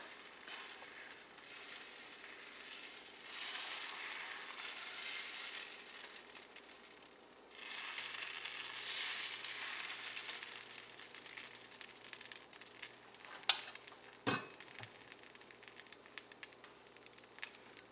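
Masala dosa batter ladled onto a hot pan, a soft, steady sizzle and crackle that swells partway through, with a couple of brief sharp clicks near the end, no talk.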